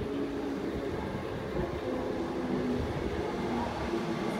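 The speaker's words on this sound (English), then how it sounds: "here we have our Coburg arriving onto platform 1" Coburg line train arriving at platform 1, a steady low rumble and rolling rail noise that holds level throughout, with no voices.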